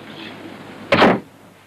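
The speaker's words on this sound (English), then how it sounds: "I'll close the door." A door shuts with a single solid thud close by, a short burst against a quiet room tone, with no talking.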